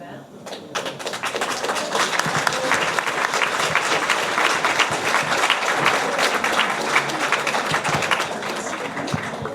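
Audience applause in a French television studio debate, a dense, steady clapping that runs loud and unbroken for about ten seconds.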